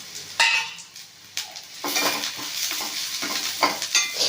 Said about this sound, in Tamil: இப்போது வந்து வெங்காயத்தை போட்டுக்கலாம். இஞ்சி வெள்ளைப்பூடு அதையும் வதக்கலாம்.